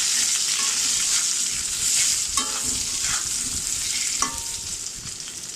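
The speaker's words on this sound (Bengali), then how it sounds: "আলুগুলো আমি মিডিয়াম হিটে ভেজে নেব" Potatoes fry over medium heat in oil with turmeric and salt, giving a continuous loud sizzle broken by a few scraping stirs in the pan.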